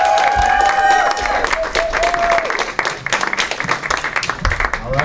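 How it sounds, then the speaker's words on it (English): Audience applause at a high school poetry slam, a dense steady wash of clapping filling the room, with cheering and a few voices mixed in throughout. "let's give a big round of applause to Miss Sullivan for putting this together."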